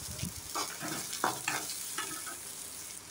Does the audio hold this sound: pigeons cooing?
no